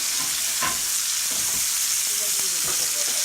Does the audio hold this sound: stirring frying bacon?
yes